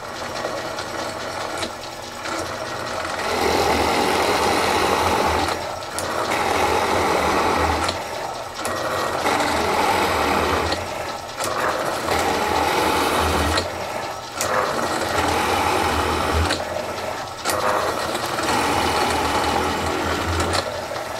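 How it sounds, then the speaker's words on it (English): A drill press turning a 9/16 Forstner bit bores into wood for a mailbox post, producing a repeated cycle of loud grinding whirs broken by short pauses, close and with no speech. "Okay, I'm at the drill press. Well, this is a 9/16 Forstner bit"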